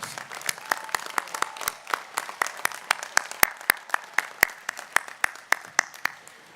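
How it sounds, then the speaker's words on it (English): Audience applause at a university spring commencement ceremony, sharp individual claps standing out in a fairly even rhythm over a softer wash of crowd clapping, moderately distant in a large hall. "giving another warm round of applause to the Honorable Congressman Elijah Cummings"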